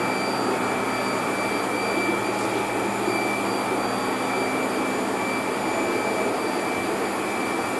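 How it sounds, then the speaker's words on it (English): An air blower supplying the tanks in a home fish room gives a constant loud whooshing drone with a faint high whine. The sound stays steady from start to finish, with no speech. "When you set up a fish room, some of the things you need to realize is when you set up an air blower"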